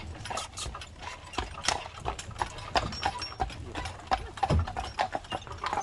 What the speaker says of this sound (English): You can see some horses coming out, getting ready to go out on the road.